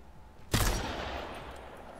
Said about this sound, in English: Yeah, I'm shooting the guy that's rezzing.